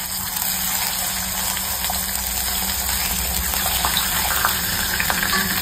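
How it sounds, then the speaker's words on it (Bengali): Foli fish frying in hot oil gives a steady, loud hiss and crackle that carries on throughout with no break, and nobody talks over it. "এবারে ভাজবো ফলই মাছগুলো।"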